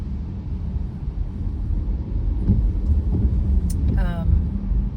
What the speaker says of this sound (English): Here's the stupid traffic.